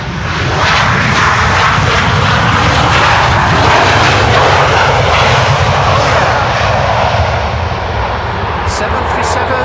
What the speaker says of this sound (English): 737 using reversers.